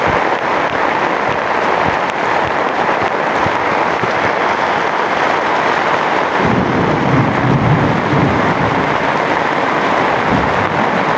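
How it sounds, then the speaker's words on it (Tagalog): Thunder rumbles under a dense, loud roar of heavy rain during a flood in a low-lying street, a broad constant wash of water with a deeper swell of rumbling partway through, and no talk. "Grabing kulog."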